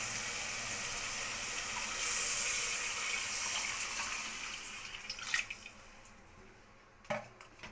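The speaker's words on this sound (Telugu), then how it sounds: "6 గ్లాసులు నీళ్ళు వాటర్ వేస్తున్నాను నేను ఇప్పుడు" Six glasses of water pouring steadily into a cooking pot for bagara rice, a continuous close splashing gush that tapers off, followed by a couple of brief knocks.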